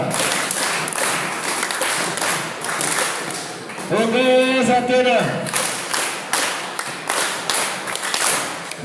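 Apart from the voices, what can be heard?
audience clapping at a school debate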